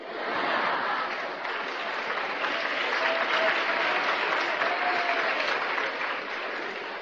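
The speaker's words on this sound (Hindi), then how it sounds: "जिस पे ताली नहीं बजानी चाहिए उस पे ताली बजाते हैं।" Audience applause at a lecture on advertising, a dense sustained clapping from a large crowd filling the whole stretch at steady loudness, with no speech over it.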